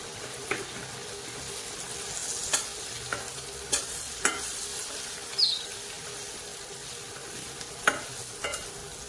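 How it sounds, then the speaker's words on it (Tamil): Green chillies sauté in hot oil for a Tamil small-onion thokku, a soft steady sizzle broken by sharp clinks and scrapes of a spoon stirring at irregular intervals, close by and without any talk. "நான் ஒரு 2 நிமிஷம் நல்லா பச்சை மிளகாய் வதக்கிட்டு அதுக்கப்புறம் தான் மஞ்சள் தூளும் உப்பு சேர்த்துக்கிறேன்."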